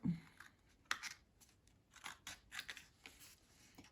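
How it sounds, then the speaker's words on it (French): Scissors snipping the corners of a cardboard photo folio, a few short close cuts and crisp card rustles spaced out over a few seconds, quiet and with no voices. "On coupe les angles"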